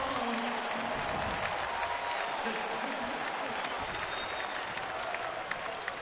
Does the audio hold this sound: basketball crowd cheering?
yes